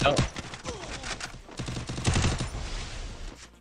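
Rapid gunfire from the Garena Free Fire video game crackles in dense bursts, with a shooter's voice talking over the shots.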